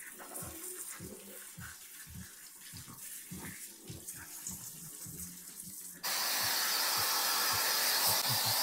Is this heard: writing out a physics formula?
no